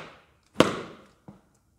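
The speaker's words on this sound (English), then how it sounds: "you probably heard the whoosh, you definitely heard the bang hitting my leg" A foam LARP weapon from Epic Armoury whooshes briefly and lands a sharp smack against a leg, followed by a fainter second tap, close by with no talking.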